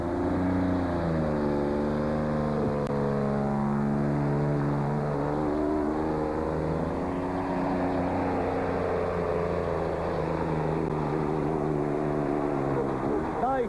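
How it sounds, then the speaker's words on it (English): A big diesel pulling tractor engine roars steadily and climbs in pitch as it builds boost, with a turbo whine rising near the end and a voice talking over it. "listen as he builds the boost here in his big diesel engine"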